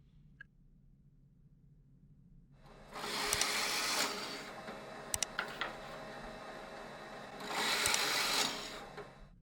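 Holes being drilled in wood for a table with built-in chairs, two loud bursts of whirring power-tool noise separated by a quieter stretch, with a few sharp clicks along the way.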